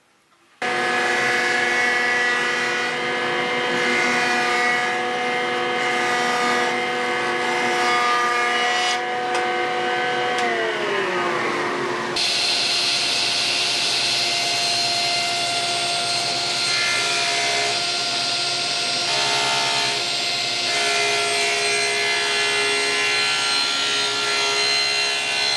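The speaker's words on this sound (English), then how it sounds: "the first thing we do is run it through the jointer" Jointer flattening the edge of a wooden board, a loud steady machine whine whose pitch drops as the cut bites, then a continuous rough cutting roar, heard close with no voices.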